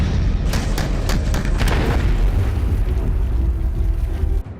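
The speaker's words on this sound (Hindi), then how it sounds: "इसे अर्जुन टैंक पर रखकर फायर किया गया।" Test firing of an indigenous laser-guided anti-tank missile from an Arjun tank, heard as a loud, sustained roaring rush with a deep low-end rumble and crackling bursts early on, continuing steadily for about four seconds before cutting off.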